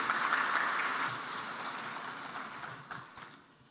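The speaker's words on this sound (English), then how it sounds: "Round of applause." Applause from an audience at a World Bank address, with dense clapping that starts strong and fades away over a few seconds, ending in a few scattered claps.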